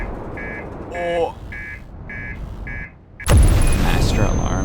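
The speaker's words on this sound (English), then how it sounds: "Master alarm." In the video game Outer Wilds, a spaceship master alarm beeps in a steady series of short repeated tones, then a loud crash or impact bursts in and rumbles on.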